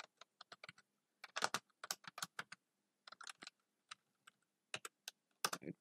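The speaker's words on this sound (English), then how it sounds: "I'm typing as company name." Quiet, close typing on a computer keyboard in short irregular bursts of rapid key clicks, separated by brief pauses and heard alone.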